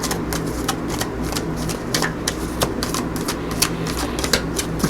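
A deck of tarot cards is shuffled by hand, giving a steady run of crisp, rapid paper clicks and riffles close by, with no talking.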